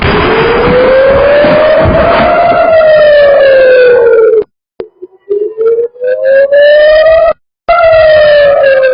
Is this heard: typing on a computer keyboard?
no